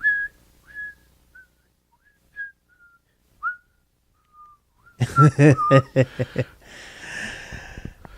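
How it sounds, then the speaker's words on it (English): Someone whistles a light melody in short separate phrases, then louder voices and clatter break in near the end. "That's a good one to whistle when you're working retail."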